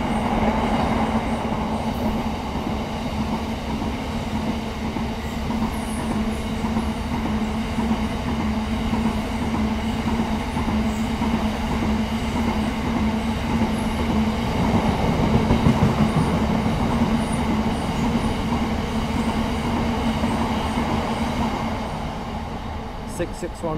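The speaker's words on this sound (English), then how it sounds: "There we go, Northern Rail departing Scunthorpe going to Sheffield." A Northern Rail diesel train, unit 142067, departing Scunthorpe station for Sheffield: a steady loud engine drone and rumble with faint rail clatter, holding for over twenty seconds before easing at the end.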